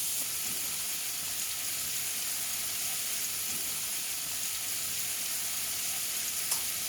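Bacon strips frying in a pan on the stove for a sausage gravy breakfast, giving a steady, even sizzle and hiss that runs unbroken throughout, close and moderately loud with no talking.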